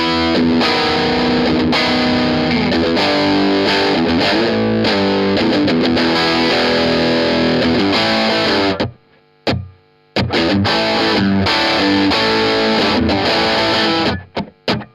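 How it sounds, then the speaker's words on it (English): An electric guitar played through a distortion pedal with the drive set around a quarter, giving loud, thick chords with a few sharp pauses and stops before the playing resumes. "Kick on the distortion pedal with the gain at the drive at about"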